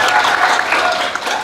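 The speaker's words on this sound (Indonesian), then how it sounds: "Selamat tepuk tangan buat kita semua." Applause from a class audience at the end of a pharmacy lesson, a dense burst of clapping that holds steady for its whole short length.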